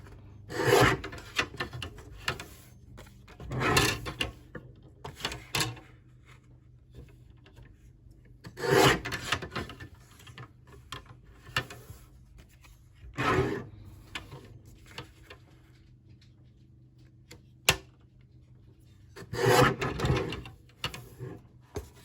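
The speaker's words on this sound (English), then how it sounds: "And then again, cut 1-inch strips." Paper is cut into one-inch strips for small handmade notebooks, with about seven rough, rasping cutting strokes at irregular intervals and near silence between them.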